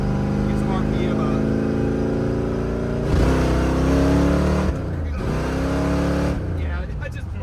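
A Dodge Dart V8 with a four-speed and nitrous accelerates hard, engine rising loud and close through gear changes, with sharp drops and climbs in pitch as it pulls, while people talk over it.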